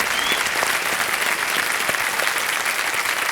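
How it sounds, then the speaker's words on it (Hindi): A studio audience of women applauding on a quiz show set, steady dense clapping that continues evenly and fairly loud throughout. "अच्छा, केवल महिलाएं जो हैं वही ताली बजा रही हैं।"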